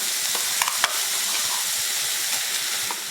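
Ginger-garlic masala paste for Chettinad vegetable biryani sizzles and fries steadily in a pan while a utensil stirs and scrapes it, with occasional sharper taps against the metal.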